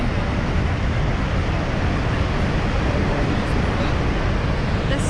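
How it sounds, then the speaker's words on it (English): Roaring water of Niagara Falls pours in a dense, loud, unbroken rush of broadband noise, steady from start to finish. "The sound of the water is crazy"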